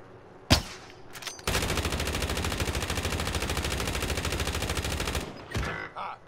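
Automatic gunfire in a video game shooter: a sharp single shot, then a long sustained burst of rapid rounds lasting about four seconds, loud and close, followed by a couple of trailing shots.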